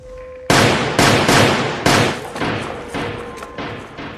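Gunshots from a scene in the 2023 action film Breakout, set in a building where hostages are shot in a room below: six loud, sharp reports at uneven intervals, each ringing out briefly, with no talking.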